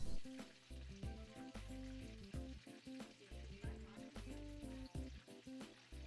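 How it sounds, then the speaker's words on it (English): Chicken fries in a pan for a crispy chicken sandwich, a steady close sizzle and crackle with rhythmic stirring or tonal clinks repeating throughout, no voices present. "Make sure when you're frying you don't overcrowd the pan."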